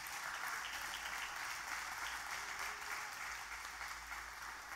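Steady, continuous applause from a church congregation, a dense wash of clapping at even loudness throughout.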